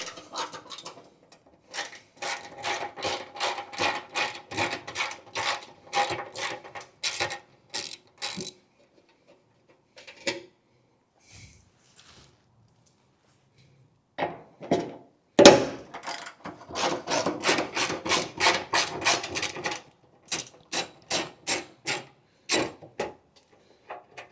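A ratchet wrench removing 10mm bolts from the front end of a Mazda MX5, giving rapid bursts of close, sharp clicking in repeated runs separated by pauses, with a single louder clunk midway.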